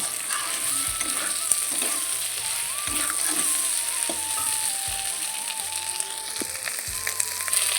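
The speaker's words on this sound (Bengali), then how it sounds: "মাছের তেল বেগুন দিয়ে ভাজা করছি এখন।" Fish oil and eggplant fry with onion and green chili in a pan, a constant dense sizzle and crackle heard up close, with intermittent scraping from stirring and a faint background tone.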